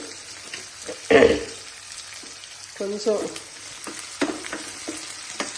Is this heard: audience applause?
no